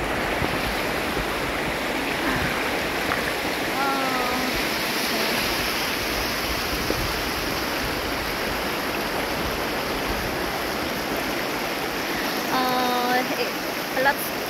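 The Polanco River flowing around a small pond, a steady broadband rush of water, close and fairly loud, with a voice speaking briefly over it a couple of times.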